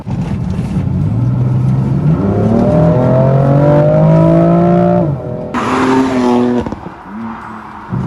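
A BMW M4 Competition's turbocharged straight-six engine revs up loudly through several gear changes, pitch climbing and dropping with each shift, up close and without talk.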